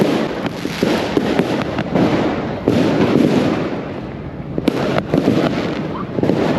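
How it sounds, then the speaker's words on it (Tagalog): Firecrackers and fireworks exploding for New Year in Khlong Toei, Bangkok, a rapid series of sharp cracks and loud bursts, some close and some further off, over a continuous crackling din. "ito yung mga paputok nila dito"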